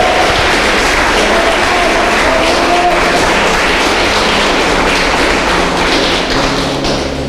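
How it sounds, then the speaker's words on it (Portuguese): A church congregation claps for several seconds, a dense wash of applause with thumping beats and scattered voices underneath. "aplaude o nome do Senhor"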